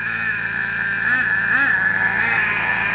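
A remote control car's small engine runs at low throttle during break-in, set rich, with a steady loud buzzing drone and slight wavering in pitch as the throttle barely moves.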